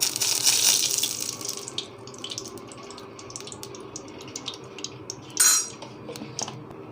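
Sardines being washed in water in a kitchen: a burst of running tap water and splashing, followed by clinks of a metal bowl and utensils, then another brief splash.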